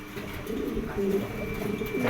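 Domestic pigeons in a coop give a low, throaty coo close by, a soft rolling call repeated through the short moment, with faint voices in the background.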